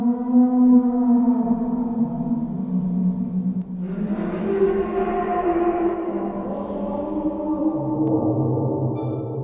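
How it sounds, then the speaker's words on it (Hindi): The Bloop, a massive low-frequency underwater sound recorded by NOAA hydrophones in 1997, rendered as a loud, sustained drone with layered harmonics that sweep and shift in pitch, rising abruptly partway through and continuing steadily without any talk. "NOAA के सेंसर्स ने एक massive under water sound record किया जिसे ब्लूप नाम"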